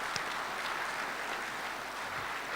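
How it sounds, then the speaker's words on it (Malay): Audience applause for Datuk Wira at a Technocount accounting and entrepreneurship convention, a steady, fairly faint wash of clapping that holds evenly throughout without any voices. "Kita berikan tepukan untuk Datuk Wira."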